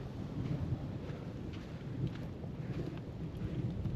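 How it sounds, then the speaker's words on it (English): Steady rain at an ocean beach with thunder rumbling low and distant beneath it, a continuous wash of drops and wind buffeting with no voices. "Here's some thunder coming in."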